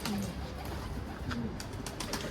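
Pigeons coo softly in a loft where young birds have grown nearly ready to fly, low throaty calls recurring over a steady ambient hum with no talk.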